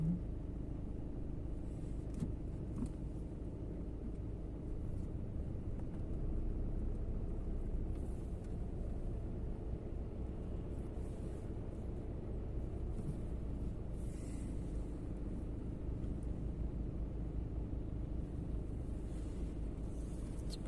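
A car rolls along slowly to park, its engine a steady low rumble heard from inside the cabin, constant and unbroken for the whole stretch with no talk.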